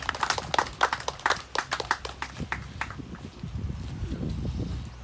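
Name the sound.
audience applause at memorial ceremony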